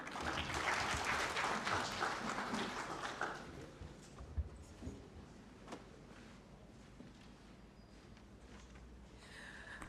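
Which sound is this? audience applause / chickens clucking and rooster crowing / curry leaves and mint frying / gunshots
audience applause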